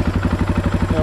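A Husaberg FX450 motorcycle engine runs close by with a rapid, even, throbbing beat, loud and steady over about a second.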